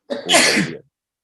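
A single sharp human sneeze, close and loud, bursting out and fading within a second before silence.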